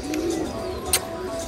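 A pigeon kept for sale in Rohtak gives a soft, close cooing call, followed by a brief sharp chirp near the end, with no talk.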